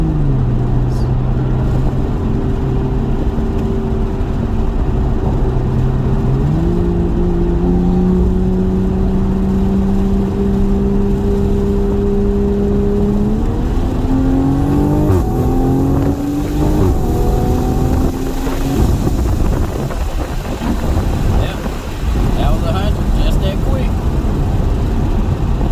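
A big-turbo Toyota Supra MK5 accelerates hard on a 60 roll, its loud engine note climbing steadily through a couple of gear shifts, close and continuous, with a voice heard briefly.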